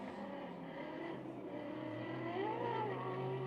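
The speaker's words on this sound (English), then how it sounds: "you can hear the revs going up on the McLaren, and as they get the wheel spin" A McLaren GT race car at Sepang in a GT Asia three-hour race revs up as its wheels spin, a steady engine drone with pitch rising toward the end, heard continuously at moderate distance.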